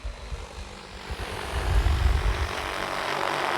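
An XAG P150 agricultural drone flies back across a field, its broad rotor whir swelling louder as it draws nearer and then holding steady, heard outdoors with no talking.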